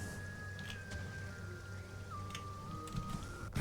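Steady rain falls in Metroid Prime's pirate territory, a soft even patter that holds for several seconds, with a faint sustained tone gliding underneath and a few sharper drips near the end.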